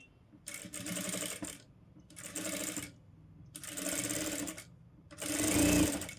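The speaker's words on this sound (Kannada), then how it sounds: "ನೋಡಿ ಹುಕ್ ಸೈಡಿಂದ ನಾನು ಸ್ಟಿಚ್ ಮಾಡ್ತಾಯಿದ್ದೀನಿ." A sewing machine stitches piping cloth onto the neck of a blouse. Four bursts of fast, rattling stitching are separated by short pauses, close and loud, with the last run heaviest.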